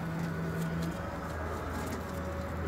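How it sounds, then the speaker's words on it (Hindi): Large breeder pigeons in a loft coo in low, steady drawn-out calls, several birds overlapping close by against constant background noise. "ये ब्रीडर कबूतर हैं बड़े"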